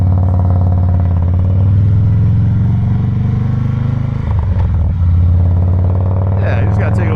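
Deep, steady engine rumble from a 2017 Harley-Davidson Softail Breakout being ridden, a loud low drone that briefly dips and recovers, with a voice talking over it and wind buffeting near the end.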